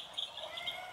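A sound picture book plays a birdsong effect: quick, bright chirps and tweets repeat several times in under a second, fairly faint and heard alone.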